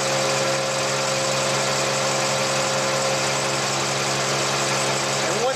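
A propane tank stabilization unit's engine runs steadily at a delivery site, a loud continuous mechanical drone with a constant hum throughout, no talk over it.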